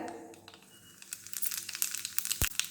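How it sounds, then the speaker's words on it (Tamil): Mustard seeds and cumin crackle in hot oil in a pan, with faint sizzling that builds into scattered sharp pops and spits, quiet and close. "கடுகு நல்லா பொரியுதுங்க"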